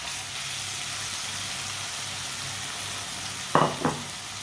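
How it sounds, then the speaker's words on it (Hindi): Boiled eggs go into a pan of masala over a lowered flame, a steady soft sizzle broken near the end by two short sharp clinks of a utensil. "बॉयल किए हुए अंडे डालेंगे।"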